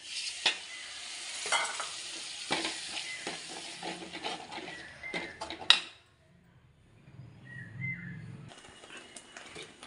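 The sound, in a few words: tomato paste poured into sizzling fish curry pan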